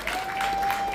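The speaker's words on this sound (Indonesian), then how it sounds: "tepuk tangan untuk komunitas Ciliwung" Outdoor audience clapping at an Indonesian riverside community festival, a steady spread of applause with a faint constant tone running underneath.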